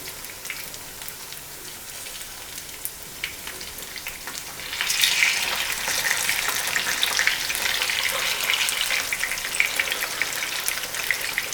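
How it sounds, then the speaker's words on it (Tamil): Fish frying in hot oil in a pan for a spicy Kongu-style fish fry, turned over at medium heat, with a soft steady sizzle that grows louder and crackles more once the pieces are flipped. "அப்படி மெதுவாக திருப்புங்க, இல்லாட்டி எண்ணெய் தெரிச்சிடும்."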